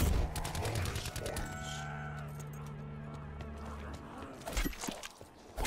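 Rapid assault rifle bursts ring out in a first-person shooter game, loud repeated shots over the game's background ambience, with a voice talking over parts of it.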